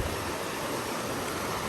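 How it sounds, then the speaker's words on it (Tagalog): Steady rushing of a flowing river, a dense continuous wash with no breaks, close and fairly loud. "Maganda na yung agos ng tubig."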